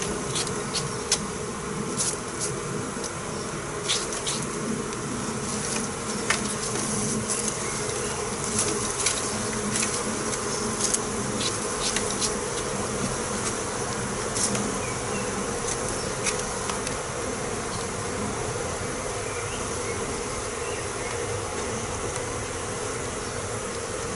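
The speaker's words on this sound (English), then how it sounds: "All bees need to disembark." Dense buzzing of many honeybees around a hive during a swarm inspection fills the air steadily and close by, a continuous hum with individual insects droning past.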